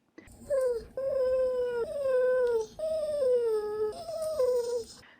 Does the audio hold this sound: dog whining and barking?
yes